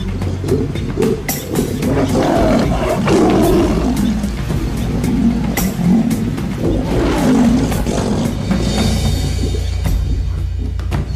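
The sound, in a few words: lions roaring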